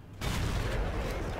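A single heavy tank cannon shot in World of Tanks, fired from a T57 tier 10 American autoloading heavy tank at an E100: one sudden loud boom rolling into a long rumbling decay.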